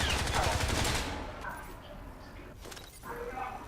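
Rapid bursts of gunfire in the video game Crysis 3 rattle loudly at first, then fade to scattered shots and clatter amid game noise.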